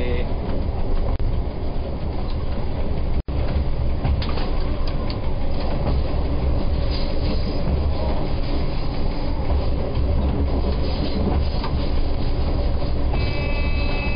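A train running along the Czech railway line 013, giving a continuous, loud rumble with a rhythmic clickety-clack of wheels on the rails and a brief break near the start.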